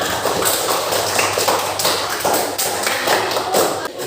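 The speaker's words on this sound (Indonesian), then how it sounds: "Tepuk tangan dulu kita semua." Students applaud together in a classroom, a dense, close burst of many hands clapping that fills the whole stretch, with faint voices mixed in.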